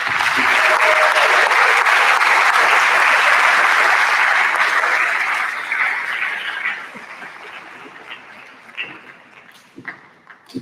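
A ceremony audience gives loud, sustained applause for friends and family of honor society inductees, a thick wash of clapping that gradually tapers into scattered claps and faint murmurs.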